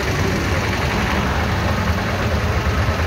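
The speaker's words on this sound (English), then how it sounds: "Had to take a tuk-tuk." Tuk-tuk engine idling on a ride in Mombasa, Kenya: a loud, continuous, rough low rumble with steady chugging, close up, with no voices over it.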